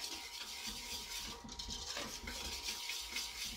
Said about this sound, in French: Et on mélange tout de suite pour éviter que les jaunes cuisent.